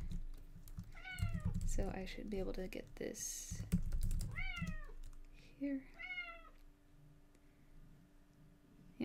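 A cat meows several times in a quiet room at night, with drawn-out, rising and falling calls that come close together. Light computer keyboard typing and someone speaking briefly run under the meows.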